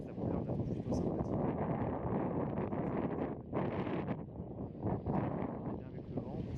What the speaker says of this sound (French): J'espère que vous m'entendez bien avec le vent.